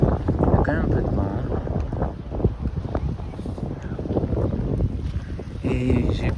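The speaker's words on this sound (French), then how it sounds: "Il y a quand même un peu de vent." Gusty wind buffets the microphone with a steady low rumble while people talk over it outdoors in a street in Saint-Tropez.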